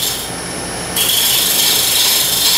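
A light cut on a Bradford pear wood bowl turning on a lathe gives a continuous close hissing scrape, growing brighter and louder after the first second and holding steady, with no talking.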